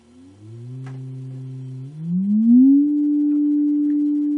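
A steady low electronic test tone from a Brunswick Model A speaker, holding a deep pitch, then sweeping upward and settling on a louder, higher steady hum.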